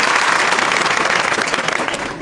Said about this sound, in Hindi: विकास के नाम की ताली बजाओ।